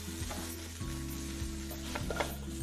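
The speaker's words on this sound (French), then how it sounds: "on fait cuire, on fait les oignons. saisir" Onions sear in a pot as the base for pho soup: a steady, close sizzle with occasional stirring clinks and scrapes, and no talk.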